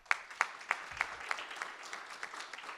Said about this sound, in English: please, another round of applause for Dr. Cheryl Coleman.